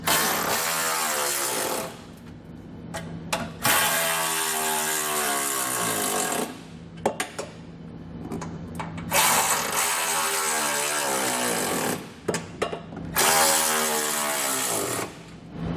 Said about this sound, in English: we can come back with a 13mm socket and snug it all down